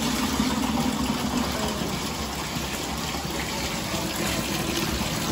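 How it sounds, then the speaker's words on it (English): Bath water gushing steadily from a tap, a loud continuous roar close by with no pauses. "Water is running"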